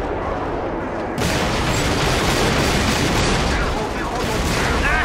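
Explosion in the war shooter Killzone 2: a sudden loud blast bursts in after a second and swells into a dense, sustained roar of rumble and crackling debris that fills the rest of the moment.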